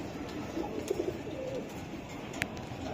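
Pigeon of the duck stock breed at a pigeon sale gives a few soft, low coos around the middle, faint and close against a quiet room background with light ambient noise.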